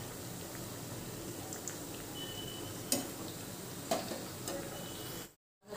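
Lentil vadas made from alasanda and bobbarlu frying in hot oil, giving a steady broadband sizzle with a few sharp ticks and pops. The sizzle cuts off abruptly near the end and then returns.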